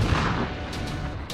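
Weapons fire in the strategy game Warpips, a dense, continuous barrage of booming shots and rattling blasts with a few sharper cracks near the end, loud and unbroken with no talk over it.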